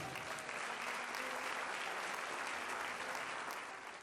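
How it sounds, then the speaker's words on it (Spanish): A congregation at a Sunday morning church service applauds continuously, a thick, even wash of clapping that holds steady and fades slightly at the end. "¿Cuánto le dan un aplauso a Dios en esta mañana?"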